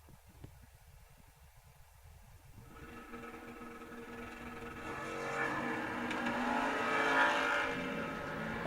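Shorty Dragster and a Chevelle launching side by side at a drag race, engine roar building steadily from quiet into a loud, sustained rush of acceleration toward the end.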